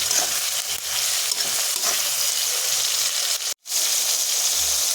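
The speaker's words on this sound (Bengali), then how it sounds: "লবণটা দিয়ে আমি ভালো করে নাড়াচাড়া করে নেব" Salted tomatoes and onions frying in a pan while being stirred: a loud, continuous sizzle with scraping stir strokes, briefly cutting out for a moment before resuming.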